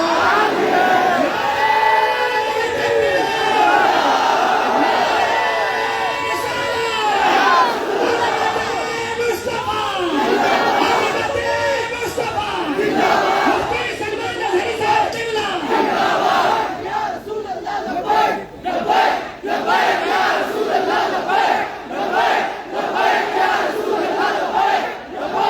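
A large crowd at a religious conference chants slogans in unison, loud and continuous with rhythmic rising shouts, voices echoing through the hall and a few sharper bursts toward the end.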